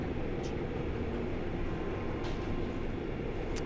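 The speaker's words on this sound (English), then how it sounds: "Fucking train going by." A train passes with a continuous, steady rumble and rush that hold at a moderate level the whole time, along with a couple of faint brief squeaks.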